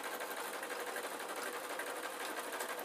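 A sewing machine runs steadily, stitching the leg of a spider soft toy, a continuous fast buzzing whir held at even loudness throughout with no talking.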